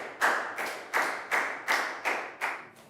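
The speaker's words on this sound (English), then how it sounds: "A round of applause for everyone, guys." A class claps together in a steady, evenly paced rhythm, seven or so distinct sharp claps close by, with no talking.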